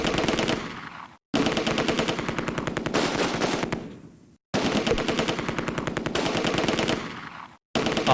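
Long bursts of machine-gun fire rattle in the war game Close Combat: A Bridge Too Far, three loud sustained volleys separated by brief silent gaps, with no voices.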